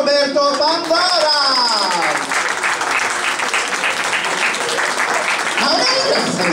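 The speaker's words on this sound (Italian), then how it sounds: "Un grosso applauso a Roberto Pandora!" A loud, dense burst of audience applause greets a drag performer at the close of a stage show, sustained clapping under an excited presenter's voice and music.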